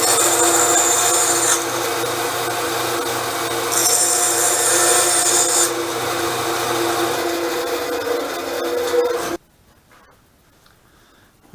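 A saw blade cuts through wood for a pendant jig, a loud, continuous rasping buzz up close with shifting tone as the piece slides across, ending abruptly into quiet.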